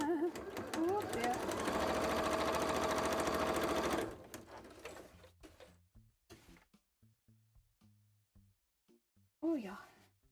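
A sewing machine runs loud and steady for about four seconds, then stops; afterward a person talks and sighs amid soft handling clicks.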